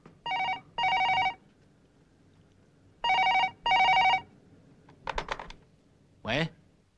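Telephone bell ringing in two double-burst rings, loud and near, followed by brief clicks and a short rising tone as the receiver is handled.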